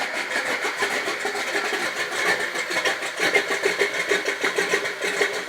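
A cold 1969 Plymouth Barracuda notchback coupe with powder-coated headers idles steadily, its lumpy cam beat pulsing through a continuous, fairly loud rumble with no talking.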